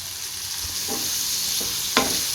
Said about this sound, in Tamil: நல்லா வதக்கி விட்டுக்கலாம் பாருங்கள் இந்த அளவுக்கு நல்லா நம்ம வறுத்து எடுத்துட்டோம் எண்ணெயிலேயே